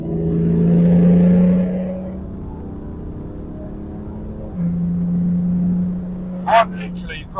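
A stage 3 BMW M4 with over 600 bhp accelerates past, its engine droning loudly, easing off, then rising again in a second steady pull, with a brief sharp noise near the end.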